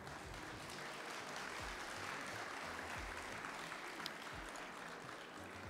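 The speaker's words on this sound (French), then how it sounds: "Vous pouvez applaudir Bernard Muraveau." Audience applause at a live cooking show event in a hall, a steady dense wash of clapping that holds evenly at a moderate, somewhat distant level throughout.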